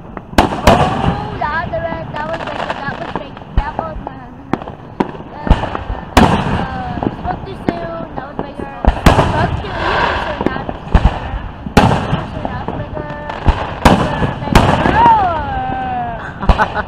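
Hometown Fourth of July fireworks display bursting overhead, with repeated loud booms and crackling pops at irregular intervals, heard from a crowd with people chatting throughout.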